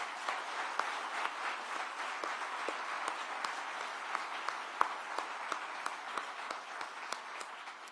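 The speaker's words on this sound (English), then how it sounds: "please just join me in a round of applause for my Board of Commissioners" Applause from an audience honouring a Board of Commissioners at an Atlanta affordable housing update, a steady dense wash of many hands clapping for the whole stretch with sharper individual claps popping out, at moderate level.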